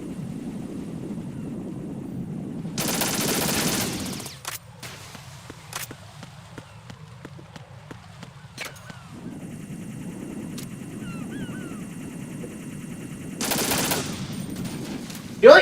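M4 rifle gunfire in the Metal Gear Solid 2 video game. Two loud bursts of rapid automatic fire are separated by quieter stretches of game ambience and scattered sharp shots.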